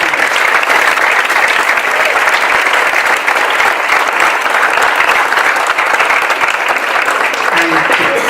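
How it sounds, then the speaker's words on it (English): A big, sustained round of applause from the crowd at a dental college grand opening ceremony, dense and even clapping throughout without pause. "I just would like a big round of applause for all of us"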